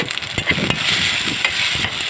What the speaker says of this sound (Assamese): হালধি গুড়ি দি ভালদৰে এইখিনি লৰাই ল'ম।